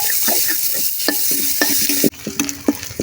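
Onion, chili and turmeric fry in a pan for a pumpkin dish, giving a steady close sizzle with repeated stirring scrapes at an uneven rhythm; the sizzle briefly drops and then resumes.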